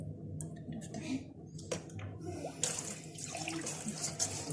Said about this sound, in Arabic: هنزل التتبيله كلها وهضيف ربع كوبايه ميه